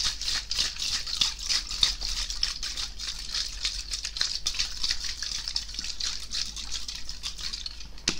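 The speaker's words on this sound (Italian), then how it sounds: "voi potrete andare anche con lo spray fissante" Makeup setting spray misted onto a face, a steady hissing spray that keeps going for several seconds, close and fairly quiet, with no talking.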